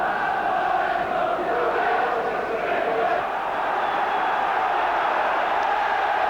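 A packed all-ticket football crowd of 26,000 at Carrow Road stadium, Norwich City against Liverpool, roars as a steady, dense murmur and cheer that fills the whole stretch at a constant level.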